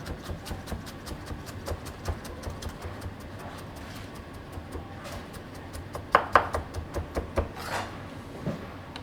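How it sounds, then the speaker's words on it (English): A kitchen knife julienne-cutting vegetables for vegan egg rolls, with quick regular taps on a cutting board in a steady rhythm that turn briefly louder partway through. "this is called the julienne cut"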